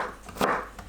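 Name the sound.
knife cutting potato into thin strips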